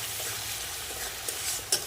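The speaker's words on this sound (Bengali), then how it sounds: "দিয়ে দেবো হলুদ গুঁড়ো, মশলাটা এখন পুরো কষিয়ে নেব।" Spice paste with turmeric powder sizzles in a pan for an egg and cauliflower curry while a spoon scrapes and stirs through it, a brief close-up burst with no talking.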